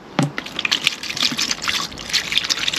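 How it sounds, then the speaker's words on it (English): Wood preservative is poured from a container into a bucket while decking boards are renewed. Close liquid glugs and splashes come in uneven gushes and trickles, with no talking. "Just going to pour all that in the bucket there, Charlie"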